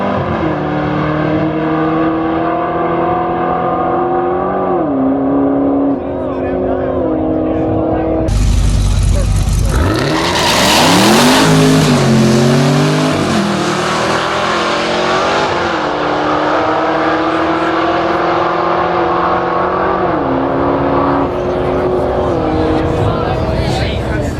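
A stock 2017 and a modified 2013 Chevrolet Camaro ZL1 race on a drag strip. Loud engines rev and climb through gear changes, and a sudden burst of full-throttle acceleration hits hard midway.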